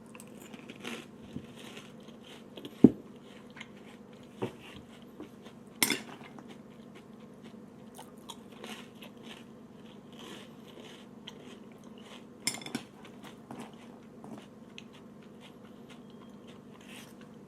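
Someone eating a bowl of General Mills chocolate cereal, with occasional spoon clinks against the bowl and soft crunching bites spaced out over a quiet hum, close and faint.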